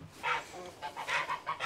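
Chickens and Toulouse geese clucking and honking nearby, several short calls in quick succession.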